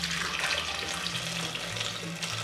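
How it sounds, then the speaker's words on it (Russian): Boiling water pours steadily into a pot holding wild duck for tomato soup, a continuous close splashing rush that stays at even loudness throughout with no talk. "Установим эту кастрюлю на огонь и зальем заранее подготовленным кипятком."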